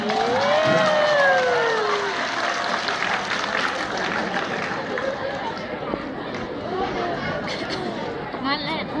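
Guests at a Thai wedding reception cheer and clap to urge the bride and groom to kiss, a continuous crowd roar mixed with chatter and a few whoops.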